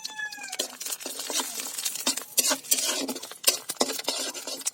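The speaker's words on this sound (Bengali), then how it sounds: "পাঁচফোড়নটা একটু নেড়ে নেব।" Panch phoron spices and bay leaf are stirred in hot oil in a pan for a mango dal. The spatula makes rapid scraping clicks against the metal over a bright, crackling sizzle, close and busy, with no talking.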